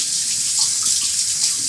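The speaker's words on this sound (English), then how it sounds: "Let me wash my hands one more time." A kitchen tap runs steadily while hands are washed under it, a loud close continuous hiss of water with slight splashing variation and no talk.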